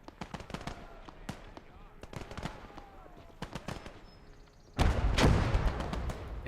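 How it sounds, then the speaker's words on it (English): Gunfire in the World War II game Gates of Hell: scattered sharp shots and bursts crack through a distant battle ambience, then a louder, denser volley erupts near the end. "Somebody's shooting."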